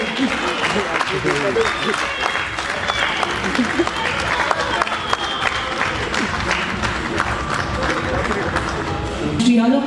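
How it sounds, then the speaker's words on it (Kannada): A crowd at a cricket tournament stage event breaks into dense, sustained applause that carries on for the whole stretch, loud and close. Scattered voices and cheers mix in, with a louder burst near the end. "ಸೌಂಡಿಗೆ ನಿಮ್ಮೆಲ್ಲರೂ ಚಪ್ಪಾಳೆ"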